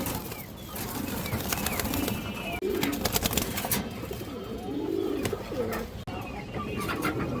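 Pigeons for sale, highflyer, Pakistani and related lines, fill a busy loft with steady cooing and chirping, with scattered wing flaps and clicks over a constant crowded bird din, no talk.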